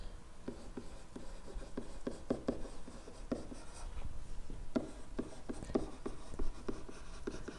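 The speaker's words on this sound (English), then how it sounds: "let's actually write this down" Pen scratching steadily across paper while working out math notes on graphing a quadratic in standard form, a close, dry stream of short strokes and taps with no talking.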